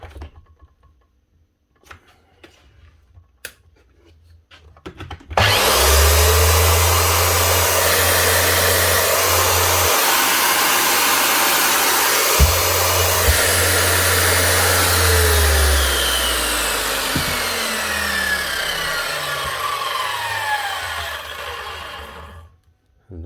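A Makita 5704 circular saw motor starts abruptly and runs loud and steady with a high whine for about seventeen seconds, then slowly winds down as it coasts to a stop, preceded by quiet handling noises.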